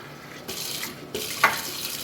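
Water poured in a steady stream onto pumpkin and lentils in a pot, starting partway in with a brief splash near the end, close and fairly loud.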